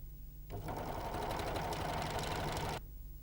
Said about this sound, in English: Place the edge to be sewn under the presser foot and sew.